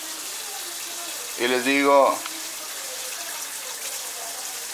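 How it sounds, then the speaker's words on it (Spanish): Cold water runs into a container for testing a car engine thermostat, a steady close rushing stream with someone briefly speaking over it. "Lo voy a poner en un recipiente en agua fría."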